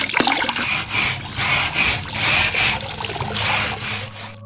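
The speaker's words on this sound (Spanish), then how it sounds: "el único sonido era el de la caída del agua de la pila central" Water falls steadily into a central stone washing basin in a Mexican village, a continuous splashing trickle with rhythmic surges, loud and close.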